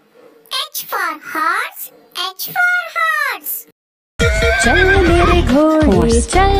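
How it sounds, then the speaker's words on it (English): A horse neighs in a series of drawn-out, wavering whinnies, clear and close, before a bright children's phonics song with music kicks in. "H for horse, H for horse."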